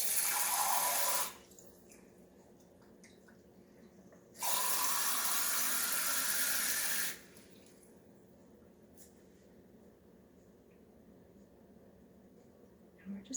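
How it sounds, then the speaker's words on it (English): A kitchen tap runs clean water into a jar holding tomato seeds, in two loud bursts of rushing flow separated by a quiet pause, fairly close with no talking. "And fill our jar with some clean water."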